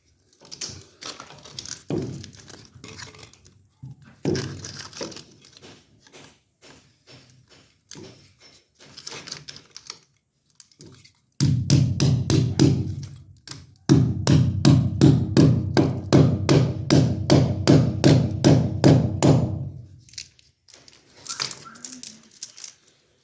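Sharp hammer blows during house wiring work, first a few scattered knocks, then a long, fast run of steady, loud strikes, heard close with pauses between sets.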